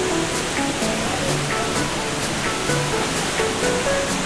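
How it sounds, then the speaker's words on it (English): Steady, loud roar of Pailón del Diablo waterfall on the Río Verde in Ecuador, a dense continuous rush of falling water with no breaks. "There's the waterfall."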